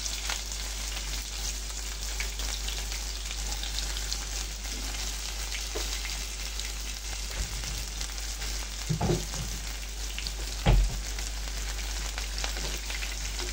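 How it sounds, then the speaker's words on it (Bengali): Onions fry in hot oil with a piece of cinnamon for a potato curry, giving a steady, even crackling hiss with a few louder stirring knocks, and no voices. "পেঁয়াজটাকে ভালো করে একটু ভেজে নেব।"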